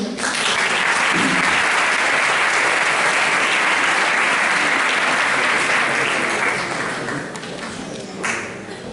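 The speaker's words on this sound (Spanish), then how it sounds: "Un aplauso para ella." Sustained applause from the audience at a Latin American and Euro-American law convention, a thick, even roar of many clapping hands that gradually eases off toward the end.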